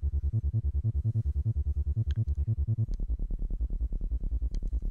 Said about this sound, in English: Oh, the S-Cat bass synth.